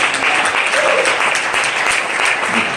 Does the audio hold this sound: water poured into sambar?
no